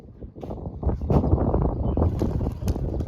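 Wind blows in steady, broadband gusts against the microphone during a rainstorm, rumbling low and rising slightly in strength over a few seconds, with no voices.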